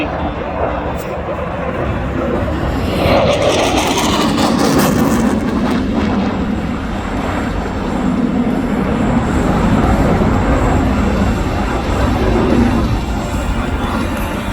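A RAAF F/A-18 Classic Hornet jet holds a hard 7.5 G display turn at the Wings over Illawarra 2021 air show, with a sustained, distant roar under an announcer talking over the public address.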